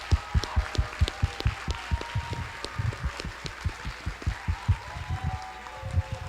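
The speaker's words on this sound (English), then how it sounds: "So if we could give them another round of applause" A modest round of applause for student musicians at a school board meeting, with individual claps audible as uneven sharp hits in a fairly close, sparse pattern and a faint tonal hum beneath.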